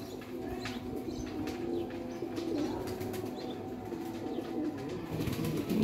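High-flyer pigeons in Lahore coo repeatedly in soft, low throaty bursts, with occasional wing flutters and faint chirps nearby. The pigeons are close and fairly quiet, and no one speaks.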